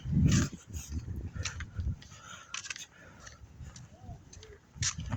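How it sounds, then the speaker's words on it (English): A dog near a river where people are jumping in, giving a short bark at the start and another near the end, with outdoor noise and faint voices in between. "there's some dog. There's a doggy."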